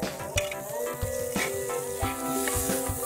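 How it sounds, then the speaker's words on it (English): Pounded chilies and garlic get stirred through a sizzling tempering while making baingan bharta, a steady close fry hiss broken by a few sharp spoon scrapes and clacks against the pan. "And a quick stir."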